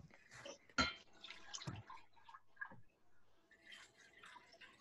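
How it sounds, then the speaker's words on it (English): Water poured from a measuring cup into a cooking pan in a classroom, a few splashy pours and drips over about five seconds with quiet room noise between. "Everybody, pour your water in the pan now."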